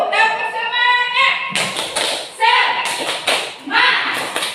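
A group of adults at a morning workshop performs a rhythmic clapping cheer, bursts of patterned claps and taps close by, mixed with chanting voices.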